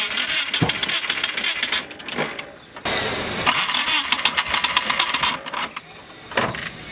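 Turbocharged 600+ hp GSX car engine starting and idling: a rough, loud mechanical roar with uneven surges and brief dips, close up, with faint voices in the background.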